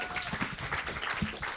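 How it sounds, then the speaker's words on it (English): Another round of applause from a live audience, a brief wash of clapping at moderate volume with no break through the clip. "give them one more round of applause"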